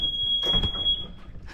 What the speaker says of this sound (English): Oh, you set the alarm off.